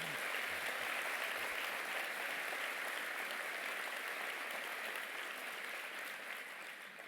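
A large audience at a New Year's greetings event in Herblay applauds continuously, a dense, even wash of clapping that fades slightly toward the end, with no clear speech.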